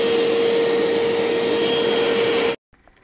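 A Bissell vacuum cleaner runs with water bubbling inside, a loud steady motor whine with a constant tone that cuts off abruptly near the end, leaving near silence.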